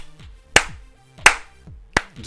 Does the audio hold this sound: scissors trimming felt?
no